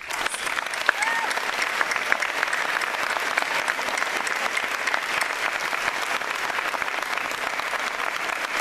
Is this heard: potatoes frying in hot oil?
no